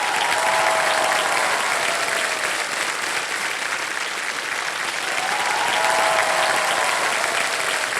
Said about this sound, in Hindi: तालियों के साथ मैं चाहूंगा कि अभिनंदन हो